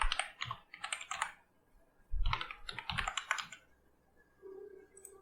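Keys clatter on a computer keyboard in two close bursts of quick, uneven typing, separated by a short pause, with a faint low hum near the end.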